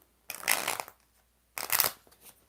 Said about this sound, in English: 5 shuffles for Michelle Lynn